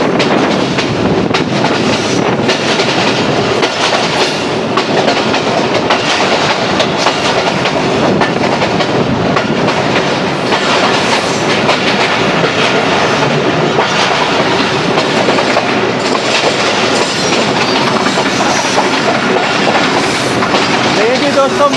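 Sialkot Express passenger train running on the Sialkot–Narowal branch line, heard from on board: loud continuous rumble with rhythmic clickety-clack of wheels over rail joints, steady throughout.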